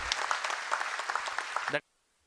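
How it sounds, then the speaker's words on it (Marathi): A crowd at a mill workers' rally applauds with brisk, dense clapping that runs for under two seconds and then stops abruptly into silence, moderately distant. "जोरदार टाळी झाली पाहिजे आपल्या बाबा राजांसाठी"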